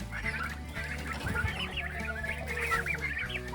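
Turkeys calling in their farm pen, a dense chorus of overlapping honking gobbles and clucks that keeps going throughout, close and fairly loud.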